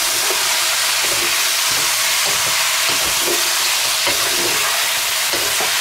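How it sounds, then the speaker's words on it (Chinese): Shrimp stir-frying in a wok with soy sauce and cooking wine, a steady loud sizzle broken by repeated scraping and tossing of a spatula, close up with no voices. "翻炒均匀"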